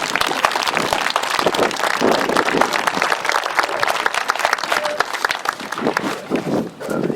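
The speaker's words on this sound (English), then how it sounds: "If we can give them a round of applause." An outdoor crowd at the annual Manzanar Pilgrimage gives volunteers a round of applause: dense, sustained clapping heard close and fairly loud, tapering slightly toward the end.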